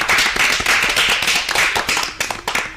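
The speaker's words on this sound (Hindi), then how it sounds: "इनके लिए तालियां तो बजनी ही चाहिए" Dense applause from a crowd at a school students' program, many hands clapping loudly and close, fading slightly at the end.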